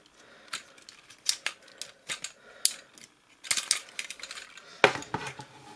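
Ratchet joints on a Hello Carbot Sky SWAT transforming robot toy being moved: small, crisp plastic clicks and ratcheting ticks come in uneven clusters over several seconds, close and quiet, with no talking.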